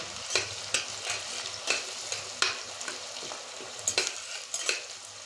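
Chopped onions fry in a pan for a chicken and potato curry, a steady sizzle broken by sharp scraping stirs about every second, close and fairly quiet.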